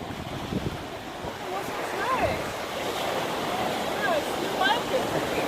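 Atlantic Ocean waves wash onto a beach in a continuous broad surf roar, swelling and easing, with wind noise and faint voices and other sounds in the background.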